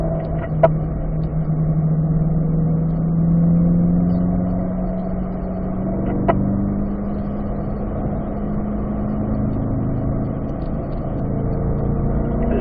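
A car driven on a race track, braking and downshifting to fourth gear before turning into a corner, with a steady engine drone that rises gradually in pitch through the clip, alone without talk.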